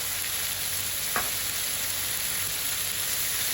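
Lemon-pepper seasoned chicken sizzles and chars in a very hot pan, a loud, dense, steady frying hiss throughout with one brief sharp crackle near the start; no talking.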